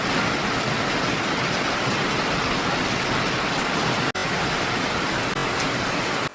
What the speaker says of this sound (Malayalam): നല്ല മഴയാ കണ്ടോ, ഇന്നും വീഡിയോ എടുക്കാൻ സമയമായപ്പോഴത്തേക്കിനും മഴയാണേ.